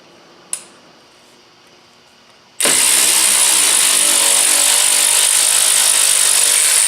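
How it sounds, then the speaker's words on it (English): A short click, then a cordless drill whirs up abruptly during car brake repair and runs at a steady high-pitched whine for several seconds, loud and close. "Now you're going to take your cordless drill."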